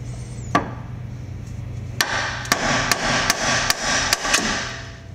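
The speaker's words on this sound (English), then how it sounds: "we'll give it a couple good whacks here and see if we get lucky on getting this guy out" Hammer blows strike a car's lower control arm ball joint: one sharp whack, then a run of about seven metallic hits at uneven intervals, close and loud over a low steady hum.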